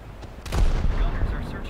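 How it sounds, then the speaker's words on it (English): Naval gunfire aimed at the cruiser Helena in War Thunder, a deep booming salvo that swells and rolls for about a second, close and heavy, with someone speaking around it. "I'm shooting at this Helena now"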